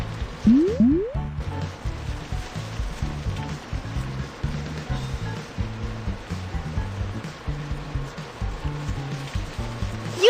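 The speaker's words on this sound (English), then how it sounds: "pour white paint into the marking machine" White paint pouring into a road marking machine in a kids' construction cartoon, a steady series of gloopy, squelching liquid glugs in rhythmic pulses, preceded by a quick rising whistle-like cartoon effect.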